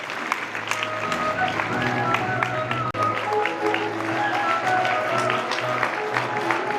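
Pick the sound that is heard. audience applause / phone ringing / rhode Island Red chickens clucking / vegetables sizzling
audience applause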